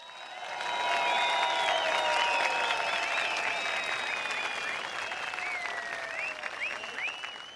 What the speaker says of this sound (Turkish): Sivas Meydanı'ndan güçlü bir dayanışma alkışı alalım